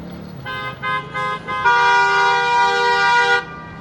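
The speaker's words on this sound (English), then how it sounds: "Sorry about the statutory traffic noise there." Car horns honk in three short toots, then one long sustained blare, loud and close over a low rumble of street traffic in Ulaanbaatar.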